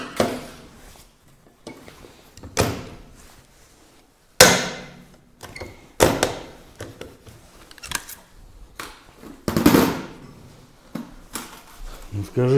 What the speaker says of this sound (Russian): Шайбу на заклепку и затягиваем.